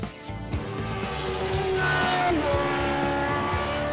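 A Classic Lotus race car roars at full throttle at Le Mans in a racing video game, a loud steady engine drone with shifting pitch and a brief tyre squeal in the middle.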